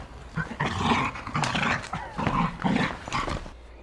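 A dog growls and snarls continuously while playing rough during a squat workout at home, close and fairly loud throughout.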